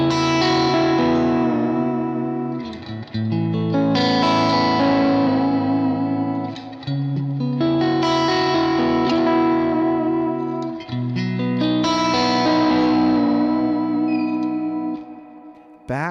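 Electric guitar through a Kemper amp profile rings out in full, distorted chords with echo and long sustain, loud and alone across several phrases.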